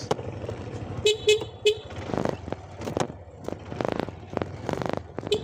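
A car horn gives three short honks in quick succession over the low rumble of a vehicle in traffic, with some talking nearby.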